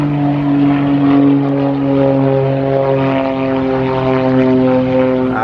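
A propeller airplane drones steadily overhead, loud and close, with a strong humming engine tone throughout.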